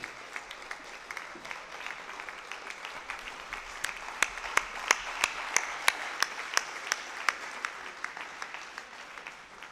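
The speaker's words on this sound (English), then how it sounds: "give him a big round of applause, give him standing ovation" Audience applause and a standing ovation for Dr. N.K. Singh at an awards summit session, a soft crowd clapping that swells into sharper, rhythmic individual claps standing out in the middle, moderately distant and steady throughout.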